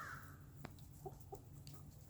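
Chickens lounging on a farmstead, with a few soft, faint clucks scattered over a low steady background hum.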